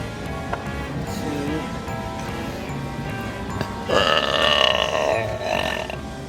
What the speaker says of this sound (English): So we're gonna do a burp contest.